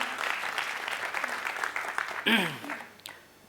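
Audience applause for an MBA graduate at a Hindi business talk, a steady patter of clapping that tapers off toward the end, with a brief voice rising over it midway.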